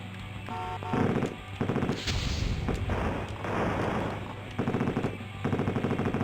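Bursts of rapid video game gunfire, loud and close, come in several clusters with brief pauses between them over a busy game soundtrack.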